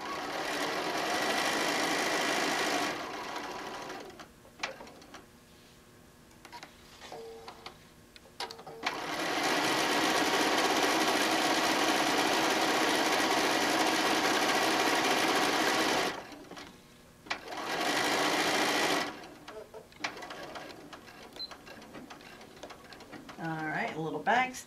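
A sewing machine stitching fabric for a wine bottle bag, running in long loud close bursts separated by quiet pauses with handling clicks, and a voice speaking briefly between runs.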